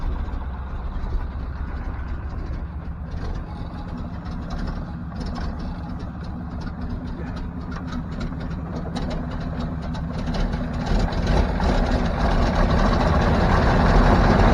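A Ford F600 truck engine chugs along at low road speed with a poor carburetor, a rough, rhythmic low rumble that grows louder toward the end, with no talking.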